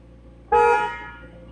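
A McLaren 750S sounds its horn in one short, loud, close honk with a slightly off-key tone that fades quickly.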